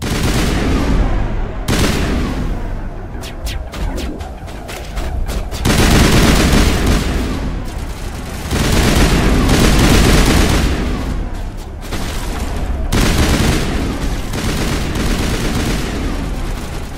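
Sustained gunfire in the Mass Effect sci-fi shooter on Feros, with dense bursts of shots and loud rattling volleys repeating in waves across the whole stretch, no talk over it.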